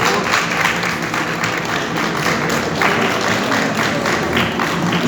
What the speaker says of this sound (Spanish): Demos un aplauso al ingeniero Julio César Tellez Ordóñez, por favor.